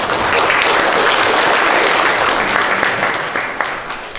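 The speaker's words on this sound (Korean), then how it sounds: "큰 박수로 환영해 주시기 바랍니다." Loud, dense applause from a lecture audience welcoming a guest speaker, a sustained wash of many hands clapping that tapers slightly toward the end.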